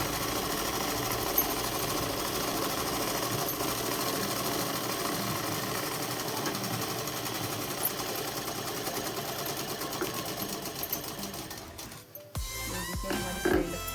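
A sewing machine stitches a shalwar in a long, unbroken, even whir for about twelve seconds, close and steady, before stopping and giving way to quieter handling sounds.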